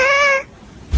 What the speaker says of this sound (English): that's a good 10 out of 10 cat